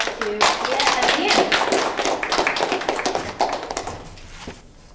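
Applause for two speakers at an education conference session, a small audience clapping steadily and fairly close, thinning out and fading toward the end.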